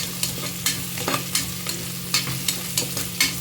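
Garlic sizzles in hot oil in a pan, with a steady frying hiss and a low hum beneath, broken by a series of sharp scraping stirs at fairly regular intervals.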